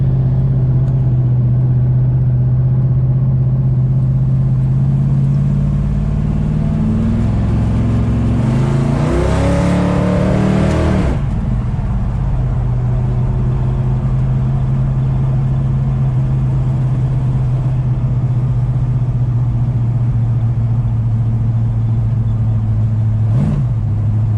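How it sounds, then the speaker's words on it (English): A 1968 Dodge Charger's Hemi V8 idles with a deep steady rumble, then revs hard once, climbing and falling back before settling into its low idle again. "We got Hemi noises to listen to."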